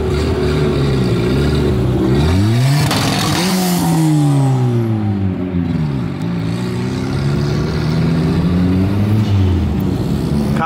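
A Ford Ka fitted with neon lights drives out at a car meet, its engine revving up and down in several rising and falling sweeps, loud and close with a whistling tone, and no talk over it.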